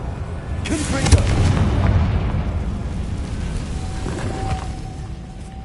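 A Confringo fire spell bursts in Hogwarts Legacy with a deep booming explosion and crackling, rumbling tail that slowly dies away, followed by a faint sustained tone.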